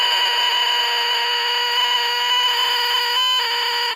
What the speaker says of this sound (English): crows on the oboe reed.